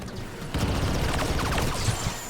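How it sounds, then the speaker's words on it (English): Rapid blaster rifle fire from a CR2 in the Star Wars Battlefront video game, a quick run of sharp zapping shots over busy battle noise, loud and close, with no talking. "with the high rate of fire you can dish out quite a lot of damage anyway"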